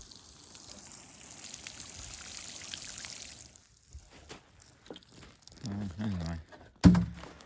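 Water is poured onto a smouldering, burning compost pile, first a long hissing spatter, then scattered thuds, trickles and crackles as the stream breaks up, ending with a sharp knock.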